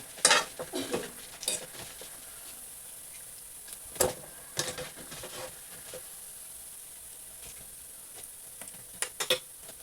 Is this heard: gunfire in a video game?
no